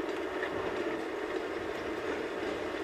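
A train rolling along in the video game Uncharted 2, a steady rumbling, rattling drone that holds at an even level throughout without breaks.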